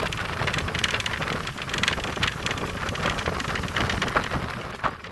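Steady rain drums on a vehicle during the drive back from a temple in Mangalore, a dense continuous patter with scattered louder drop hits, loud and even throughout, no voices.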